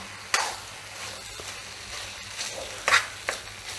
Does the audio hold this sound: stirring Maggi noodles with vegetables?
yes